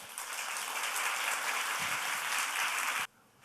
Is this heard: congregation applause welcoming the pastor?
yes